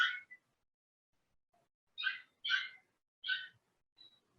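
A few short, sharp dog barks, spaced irregularly, with silence between them and a faint distant yap at the end.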